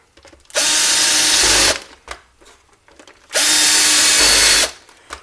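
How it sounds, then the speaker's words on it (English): A power drill spins out screws from a Nintendo Virtual Boy console under repair, two steady whirring bursts of about a second each separated by a pause, close and fairly loud. "use the drill to screw in these screws in the top"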